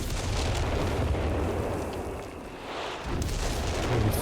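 Howitzer artillery fire in a Company of Heroes 3 match, dense rumbling booms and blasts rolling continuously, dipping briefly mid-way before another heavy burst.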